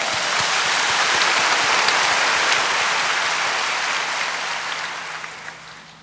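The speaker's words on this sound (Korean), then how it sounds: "아멘 하시면 한 박수를 쳐주시기 바랍니다." A church congregation claps together after a sermon reading, a broad wash of many hands that swells early and gradually fades toward the end, with no talk over it.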